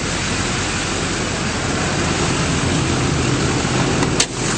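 A 2007 GMC Sierra 2500 diesel with a Banks 6 gun idles under the hood in a dense, steady engine roar, loud and close, with one brief dip near the end.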